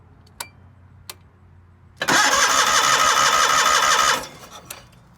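A 1989 John Deere 318 lawn tractor engine cranks on a fairly new battery in one loud, steady two-second burst of starter whir, framed by quiet ambience and a couple of faint clicks.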